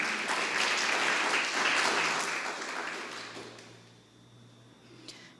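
A church congregation claps together, a fairly distant, full round of applause that holds steady and then fades away, leaving near-quiet with a faint knock at the end.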